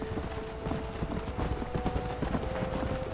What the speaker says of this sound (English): We're already riding horses right at the beginning